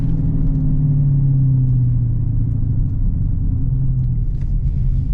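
A 700hp Ford Mustang GT drag car gives a loud, steady low engine rumble with a droning tone that shifts slightly in pitch throughout, close by and continuous, with no voices over it.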